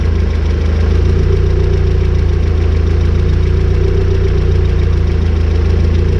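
A BMW E36 car engine idles steadily and loudly up close, with a repetitive mechanical knock running through the low rumble.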